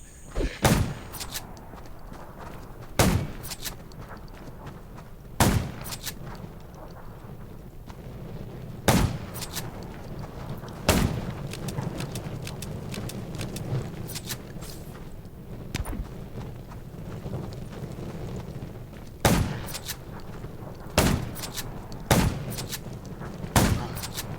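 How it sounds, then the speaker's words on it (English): Gunfire in the mobile zombie survival game Undawn: sharp, loud shots ring out one at a time at irregular intervals over a steady low rumble of background ambience. "Gunshots will attract more zombies."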